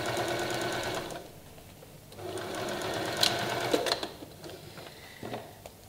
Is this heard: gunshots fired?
no